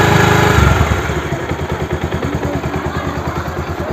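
A Bajaj DTSI motorcycle engine revs briefly and then settles into a loud, close, rhythmic pulsing run, with each firing beat clearly audible and no voices.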